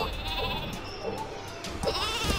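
Sheep bleating in the Worms W.M.D video game, a few wavering bleats over steady game background noise, close and clear.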